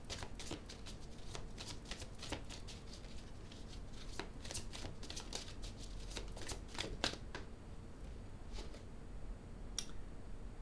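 Tarot cards are shuffled and laid out in a steady run of crisp riffling and flicking close by, continuing for about ten seconds with no talking.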